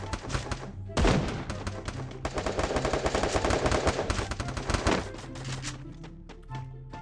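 Rapid automatic gunfire from the battle-royale game Free Fire, dense bursts of shots with thuds, loud and sustained for several seconds, with game music and effects underneath.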